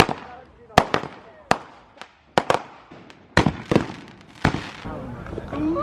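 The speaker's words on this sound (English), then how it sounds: "this is our contribution to watching our neighbors' fireworks every year" A series of sharp fireworks bangs and crackles, about a dozen irregular bursts spaced over several seconds, each trailing off into echoing crackle.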